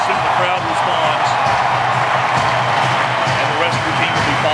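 Alabama Crimson Tide stadium crowd roaring steadily as the team runs out of the tunnel, a dense continuous wash of cheering and applause with a voice speaking over it.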